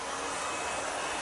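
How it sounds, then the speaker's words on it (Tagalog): A hair dryer blows hot air through hair to add volume, giving a continuous loud, even airy whoosh that holds steady from start to finish without pauses. "Maluto sa blower yung buhok, magkaroon ng volume."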